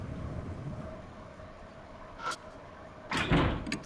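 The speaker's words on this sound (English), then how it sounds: "The door is locked." A locked door rattled in the horror game Death Mark: a brief clack, then a louder scraping rattle of the handle over a quiet ambient hum.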